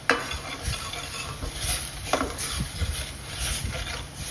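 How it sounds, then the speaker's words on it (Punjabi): Dry spices (turmeric, ground coriander, salt and red chili) are stirred into palak paneer in a hot pan, giving a close, steady sizzle with scraping stirs and light clinks of a spoon against the metal. "ਚੰਗੀ ਤਰ੍ਹਾਂ ਨਾਲ ਮਿਕਸ ਕਰ ਦੇਣਾ"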